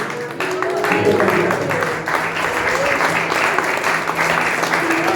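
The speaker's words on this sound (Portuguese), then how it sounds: "Fica de pé, igreja, dá um aplauso para Jesus" Church congregation on its feet applauding in a long, dense, steady burst of clapping that fills the room, with a few voices and some music faintly underneath.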